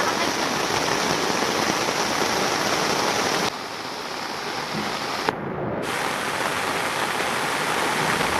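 Storm rain falls heavily in a continuous, dense hiss, briefly dipping in loudness partway through before resuming at full strength, with no voices present.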